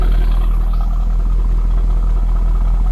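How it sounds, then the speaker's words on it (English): A 2003 Corvette C5 50th Anniversary coupe idles close up at its exhaust, giving a loud, steady low rumble with a faint mechanical clatter and no change in revs over a few seconds, with no one talking. "Here's your exhaust."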